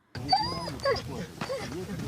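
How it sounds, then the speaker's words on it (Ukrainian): Specially trained search dogs whimper and yip in a wooded belt during a demining search, short whiny cries close by with voices talking over them. "Фахівцям допомагатимуть спеціально навчені собаки."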